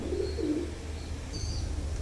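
Domestic pigeons of an imported KTM bloodline coo softly and steadily nearby, low murmuring calls over a quiet background with a few faint higher chirps.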